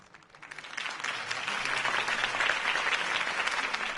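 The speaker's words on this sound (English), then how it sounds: "could have heard that applause" Sustained applause from a crowd, building over the first second and then holding steady with dense, continuous clapping.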